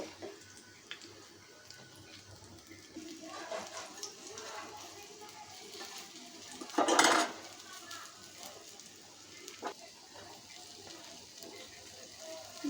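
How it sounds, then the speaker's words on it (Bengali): Ash gourd fritters being turned in a pan of hot oil, a soft steady sizzle with scraping and clinks of a utensil against the pan, one louder burst of frying midway. "বড়াগুলো আমার এক পিঠ হয়ে গেছে, আমি একটু উল্টিয়ে দিব"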